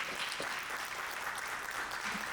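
Quiet, steady clapping from an audience at a poetry reading, an even patter of hands heard at some distance for a couple of seconds.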